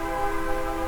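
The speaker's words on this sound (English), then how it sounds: "excuse the train" A passing train sounds a sustained horn, a steady multi-tone blare heard at moderate distance over a low rumble.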